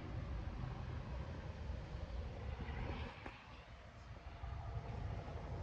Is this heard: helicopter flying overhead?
yes